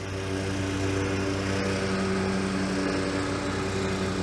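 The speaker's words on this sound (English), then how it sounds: "there's a lawnmower getting closer" A lawn mower engine drones loudly and steadily, a constant close motor hum that fills the whole stretch without pause.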